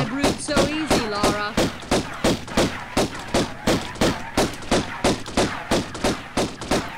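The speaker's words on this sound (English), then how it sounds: "It shows you just how shit the pistols are." Pistol fire in the Tomb Raider video game: a rapid, steady string of about twenty sharp, evenly spaced shots over seven seconds, loud and close, with faint game sounds between them.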